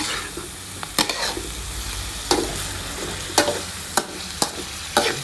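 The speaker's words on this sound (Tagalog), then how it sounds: "Yan naman, yung diced tomatoes natin. Ayan. Haluin lang natin." Diced tomatoes frying in a pan with steady sizzling, while a utensil stirs and scrapes in a series of sharp, irregular clinks and knocks close by.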